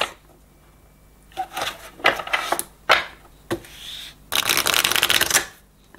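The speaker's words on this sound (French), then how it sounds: "on va prendre la dernière carte" Tarot cards shuffled and drawn by hand, with several crisp riffling bursts and short slaps, ending in one longer loud shuffle, all close up with no talking.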